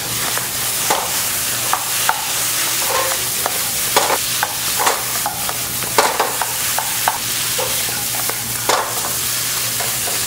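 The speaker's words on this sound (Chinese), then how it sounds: "翻炒一下。" Pepper shrimp stir-fried in a wok over high heat: a steady, loud sizzle with frequent sharp scrapes and clacks of the spatula tossing the shrimp, no voices.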